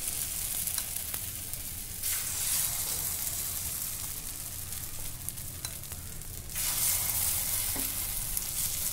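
Batter sizzles on a nonstick pan for a simple breakfast dish, a continuous close frying hiss that swells louder twice, with no voices.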